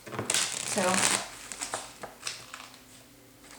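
Cards riffle and shuffle in a brief burst, followed by softer shuffling taps and rustles, fairly close.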